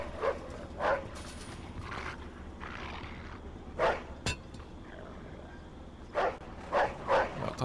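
A dog in the video game Mafia 2 barks repeatedly in short, spaced bursts of one to three barks each, moderately loud over a steady, low game ambience.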